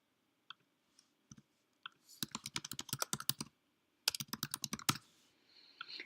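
Computer keyboard keys clatter in two quick bursts of typing, preceded by a few sharp isolated mouse clicks, close and crisp in a quiet room with no voices.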